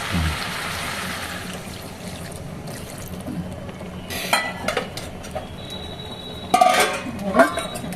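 Water pours into a pan holding bori and soybean chunks, a brief rushing splash at the start followed by quieter bubbling and several sharp metallic clinks of utensils against the pan.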